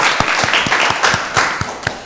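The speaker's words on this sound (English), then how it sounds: "Let's give the director a round of applause." Applause from a county board of commissioners meeting, steady overlapping clapping from a room of people, fairly loud and sustained for about two seconds with no talk over it.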